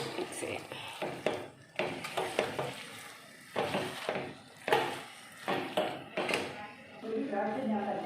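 Chicken curry with garam masala powder is stirred in a pan, with repeated scraping spoon strokes and a low sizzle beneath, while someone talks throughout.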